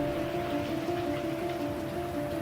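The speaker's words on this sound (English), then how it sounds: "刚好那天晚上下雨，我们找了个地方躲了一下" Steady rain falls at night on a street in Wuhan during the COVID-19 lockdown, making an even, continuous hiss with a faint low hum underneath and no voices.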